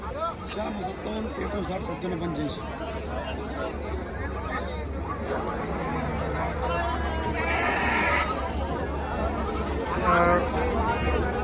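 Goats bleat now and then amid steady crowd babble and people talking at the busy outdoor Ghodegaon goat market in Maharashtra.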